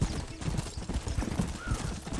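Horse hooves clop in a steady, rapid rhythm in the Red Dead Redemption video game, close and fairly quiet, with no one speaking.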